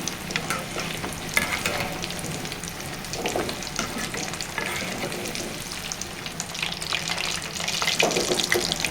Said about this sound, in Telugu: వేయించుకోవాలండి కొంచెం కలర్ వచ్చేటట్లు వేయించుకోవాలి